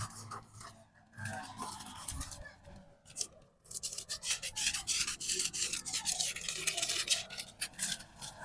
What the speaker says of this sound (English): Now I am going to cut out the excesses.